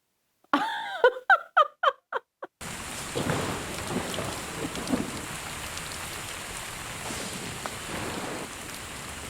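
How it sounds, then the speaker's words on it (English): Thunderstorm with steady heavy rain in a TV drama scene, a dense continuous downpour with low rumbling thunder swelling beneath it, following a brief burst of music at the start. "It's a stormy night."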